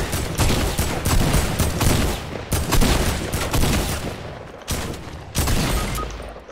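Video game gunfire in rapid bursts, loud and close, with a few short gaps between volleys and no talking over it.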